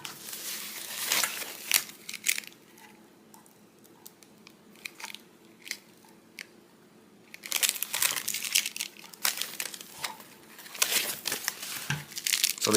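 Tape peeled and crinkled off a Norinco 56S flatback rifle magazine, close crackly tearing and crumpling noises in irregular bursts with a quieter stretch in the middle.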